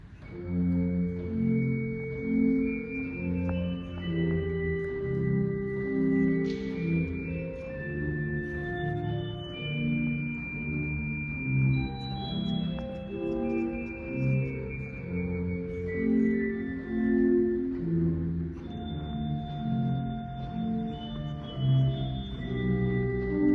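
A pipe organ with a tierce stop combined with other stops plays a slow chordal passage with bright, reedy upper harmonics layered over sustained lower notes, full and steady throughout.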